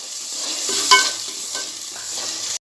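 Masala sizzles steadily in a pan for nalli bhindi gravy, with a spoon scraping and stirring through it at close range. The frying continues without pause and no one speaks.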